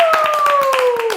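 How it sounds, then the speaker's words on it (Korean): Brief clapping from a few people greets the release of a third mini album, quick soft claps under a steady, slowly falling electronic tone. "박수"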